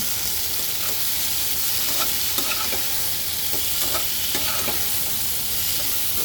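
Salt and chopped potatoes being stirred into a tengra fish curry in a pan, with a steady close hiss of frying and a few soft scraping strokes of the spoon, no voices.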